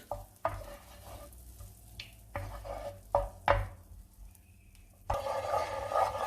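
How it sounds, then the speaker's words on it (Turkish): Butter melts in a pan for buttered noodles with a few sharp utensil knocks and scrapes. A fuller, steady sizzle rises near the end, close and fairly quiet. "Şimdi bir buçuk yemek kaşığı tereyağımızı güzelce eritiyoruz."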